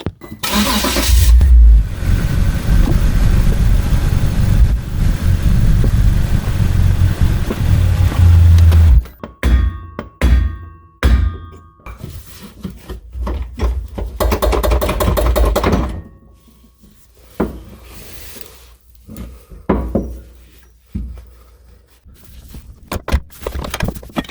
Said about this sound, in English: now I'm going to start the car and put it in reverse or drive